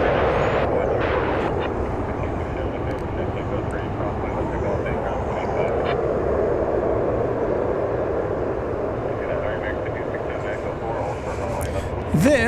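An Airbus A321 airliner arriving from Atlanta at DFW Airport gives off a continuous low engine rumble at moderate distance, steady throughout.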